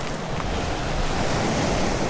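Large ocean waves surge and break continuously along the coast near Real, Quezon, a steady broadband roar of surf mixed with wind buffeting the microphone.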